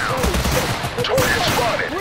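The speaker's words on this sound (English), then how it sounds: "I'm under heavy fire." Heavy gunfire in the video game Total Conflict: Resistance forms a dense, continuous crackle of overlapping shots, with voices talking over the din.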